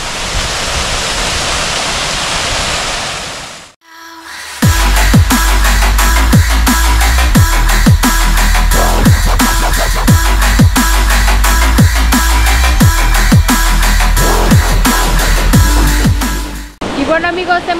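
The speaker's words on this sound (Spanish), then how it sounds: "hemos llegado a la primer cascada" Roaring waterfall at Miguel Hidalgo Zacalapa, a steady loud broadband rush close by that stops briefly, then returns heavier with low rumbling thuds and a voice talking over it.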